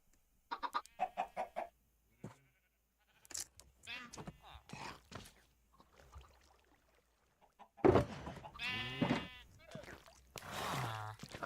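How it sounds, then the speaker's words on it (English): A chicken in Minecraft Skyblock clucks in short, repeated bursts, loud and close, with someone talking over and between the calls. "Chicken in there."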